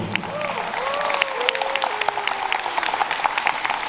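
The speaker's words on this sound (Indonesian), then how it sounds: "Boleh tepuk tangan sekali lagi untuk seluruh pemain teater yang sudah luar biasa." An audience claps steadily in a warm burst of applause for a theatre cast at a Palestine festival, with a voice speaking over it near the start.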